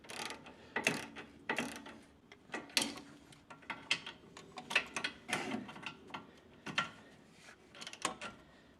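A hand ratchet snugs the front brake caliper mounting bolts on a 1996 Toyota Corolla, making a steady series of short clicking bursts, close and fairly quiet, repeating in a loose rhythm with no talk.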